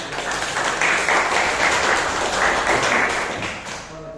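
Classroom applause for a student group during a teaching practice lesson, many hands clapping continuously and fairly loud, then fading toward the close.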